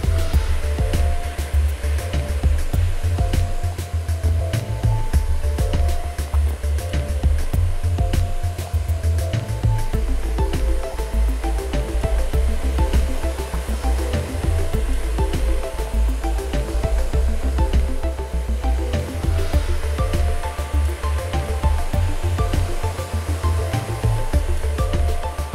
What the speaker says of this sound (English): I will be using the blow dryer and my fingers only